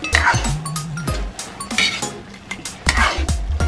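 Chicken adobo simmering in a pot as a utensil stirs it, giving several close clinks and scrapes of metal against the pot over the bubbling, with no talking.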